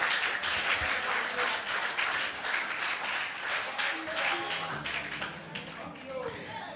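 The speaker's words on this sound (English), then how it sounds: "Give a clap offering for the mother of the house." A youth conference congregation claps together in a sustained, dense round of applause, loud and continuous with a slight fade toward the end, with some voices mixed in.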